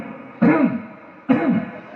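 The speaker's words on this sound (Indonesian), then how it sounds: "Akhirnya saya dehem." A man clears his throat twice in short, close, gruff bursts about a second apart, acting out the sound while telling a story in an Indonesian sermon.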